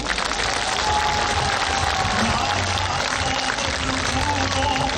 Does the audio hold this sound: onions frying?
no